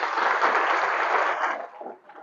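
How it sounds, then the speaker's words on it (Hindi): Audience applause at a students' development program, a dense burst of many hands clapping loudly for about a second and a half, then thinning into scattered claps as it fades. "ताली जरा जोर से बजा के उनको भी लगना चाहिए कि मैंने भी आंसर दिया"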